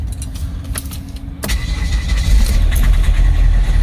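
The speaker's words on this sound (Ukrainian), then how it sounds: "ну машинка завелася, то вже добре" A car left sitting frozen for several days cranks over and its engine catches, then settles into a loud, close, steady idle.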